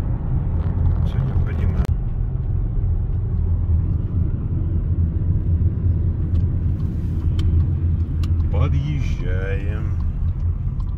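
A car rolls along on the way to a building-supply store, giving a steady loud low engine and road rumble throughout, with people talking over it and a few brief knocks from inside the cabin.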